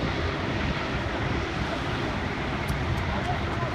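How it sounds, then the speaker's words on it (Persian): Gas blasts from a burst gas pipe beside the old Karaj road, a continuous loud roaring hiss held without a break, with a voice speaking faintly under it. "الان نزدیکه نیم ساعت گاز کلن داره خارج میشه"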